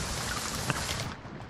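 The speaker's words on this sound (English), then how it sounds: "It's raining where you're at, but it's not raining where we're at." Steady rain falls in the video game Sea of Thieves, a soft, even hiss of drops with one brief tap near the middle, fading slightly at the end, with no voices.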